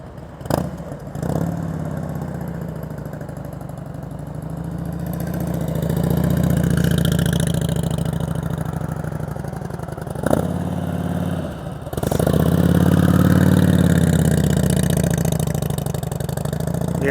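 A motorcycle engine runs through slow-speed riding practice in Florida, idling and rising in gentle revs with swells of throttle and brief drops, close and steady, with no talk.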